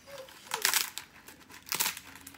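Dried luffa gourd skin cracking and being peeled from the top by hand, two close bursts of brittle crinkling and crunching separated by a short pause, with soft rustles in between.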